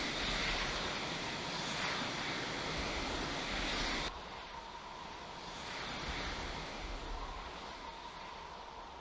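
F-16 Block 32 jet engine just after takeoff in the Falcon 4 Allied Force flight simulator game, a continuous broad roar that drops to a quieter steady hum partway through, with no talk.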